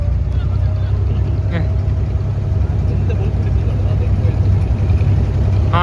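A motorboat engine hums steadily and fairly close on open water during a small boat ride, with wind and water noise around it.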